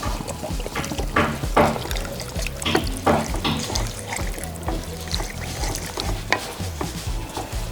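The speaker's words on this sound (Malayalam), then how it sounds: "ഇനി നമുക്ക് ആവശ്യത്തിന് വെള്ളം ഒഴിക്കണം." Water is poured into a pan of ginger curry being cooked for Onam, a steady splashing trickle close by with faint kitchen clatter underneath.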